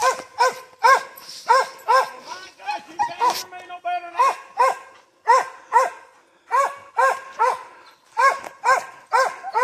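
Hunting dogs bark at a treed bear in Virginia woods during bear season. The barks are loud, repeated and rhythmic, with several dogs yipping and baying close by, and a voice is heard faintly among them.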